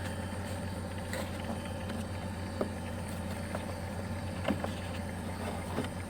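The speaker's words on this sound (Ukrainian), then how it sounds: "насос жужжить." The electric fuel pump of a Chery Amulet car buzzes with a steady, constant low drone and hum, a few faint clicks and knocks over the top, close by with no talking.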